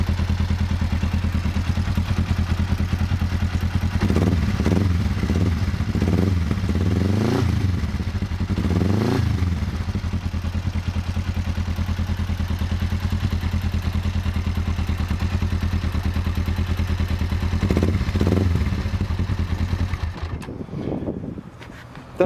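A Kawasaki ER5 motorcycle fitted with an aftermarket Fuel exhaust idles close by with a steady, throaty low burble, broken by a few short throttle blips before it cuts off near the end.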